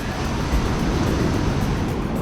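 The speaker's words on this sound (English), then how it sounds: "definitely get some good waves here" Steady, loud roar of ocean waves breaking on a popular surf beach by a boardwalk in El Salvador, continuous wash with no talk.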